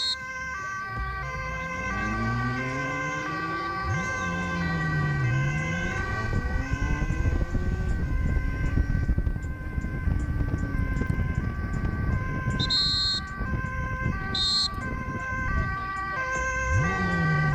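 An ambulance siren wails steadily through Dutch traffic on an emergency run from Zoetermeer to the HMC Westeinde, with rising and falling tones and road noise underneath.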